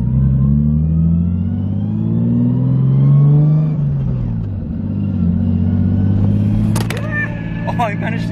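A manual Nissan R33 Skyline under way, its engine rumbling and rising and falling with a steady gearbox whine sweeping in pitch, close and loud, while a person talks over it.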